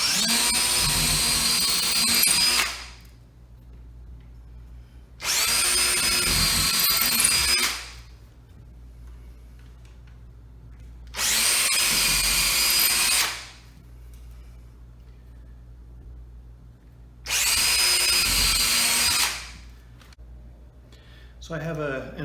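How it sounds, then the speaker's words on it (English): A cordless power drill drives screws for a flat-screen TV wall mount in four separate bursts of about two to three seconds each, loud and close, with quiet gaps in between. "All right, let's get these drilled in."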